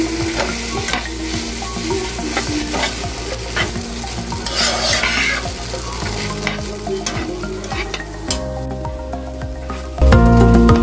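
Boiled Maggi egg noodles stir-fried in a hot pan, a steady loud sizzle broken by repeated scraping strokes of a spatula, growing louder and fuller near the end.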